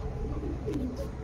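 Pigeons coo softly on a rooftop during a pigeon-flying contest, a brief low murmuring call amid steady background hum.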